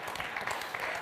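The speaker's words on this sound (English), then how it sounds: "we should all get a round of applause for making it through the bios" Round table participants applaud together at a community evening event, a brief burst of steady, dense clapping filling the room.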